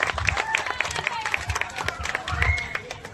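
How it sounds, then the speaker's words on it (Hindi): An audience at a school Republic Day celebration applauds to welcome the chief guest, with dense, steady clapping and crowd murmur filling the room for a few seconds. "जोरदार तालियों से स्वागत करिए सर का।"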